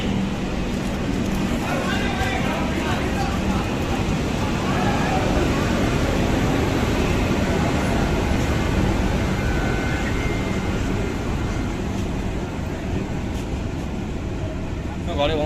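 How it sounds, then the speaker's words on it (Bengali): Inside the Tamralipta Express air-conditioned train from Howrah to Digha as it departs, a steady low rumble and broad hum of the moving carriage fill the space continuously, with people talking over it. "একেবারে সঠিক সময়ে ট্রেনটা ছেড়ে দিল।"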